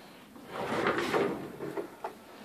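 A hotel room door swings open with a soft, muffled wooden rustle and a couple of faint knocks, heard close up indoors without talk.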